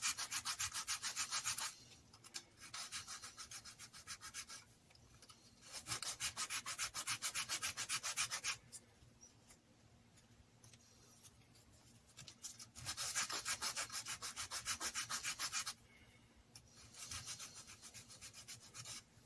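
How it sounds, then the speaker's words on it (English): Steady rubbing strokes of sandpaper removing ash from small wooden diorama model pieces, close and fairly loud, coming in bursts separated by short quieter pauses. "it doesn't take a lot of sanding to get these off and get the ash off"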